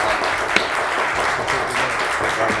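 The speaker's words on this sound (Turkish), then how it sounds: "Alkış cılızlaştı." Audience applause fills a television game-show studio, a steady continuous wash of clapping with no one speaking over it.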